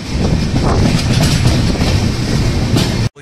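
A Dhauli Superfast Express running between Shalimar and Puri rolls past steadily and loudly, with continuous wheel rumble and clickety-clack on the rails that holds throughout before cutting off abruptly at the end.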